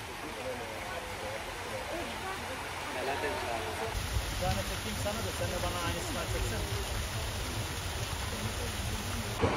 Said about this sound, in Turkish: Yine yağmura yakalandık.